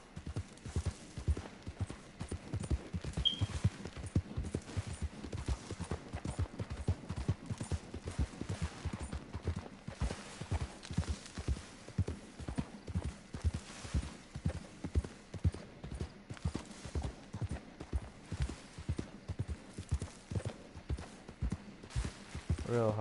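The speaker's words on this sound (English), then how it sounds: "Real hard to show you the scenery while you're riding the horse." Horse hooves clip-clop at a steady riding gait in a desert area of a PS4 video game, a close, rhythmic run of hoofbeats that continues throughout.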